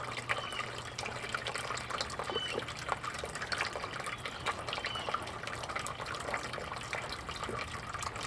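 Water rushes and trickles steadily through a home-made gold sluice loaded with scooped material, a continuous close splashing flow with small drips and gravelly patter, no talking.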